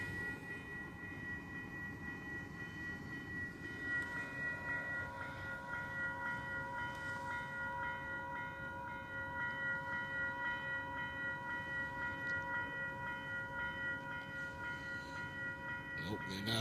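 A South Shore Line train rolls past a grade crossing, a steady rumble of wheels on rail with sustained tonal hum from the passing cars, close and continuous throughout.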